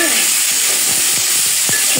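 Loud, continuous sizzling of chopped tomatoes and salt frying in a pan, with a faint voice briefly underneath.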